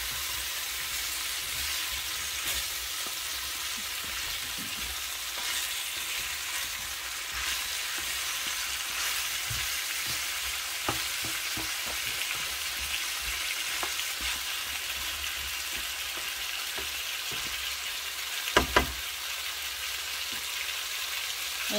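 Sautéed mixed vegetables for ginisang gulay sizzle steadily in a pan, a constant close hiss broken by soft, scattered spatula clicks and one sharper knock near the end.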